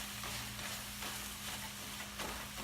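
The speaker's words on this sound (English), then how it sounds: "Basically just mashing the potato right in with the shrimp." Mashed potato and shrimp for cutlets get mixed in a hot pan with a faint, steady sizzle and soft scraping strokes. No one speaks.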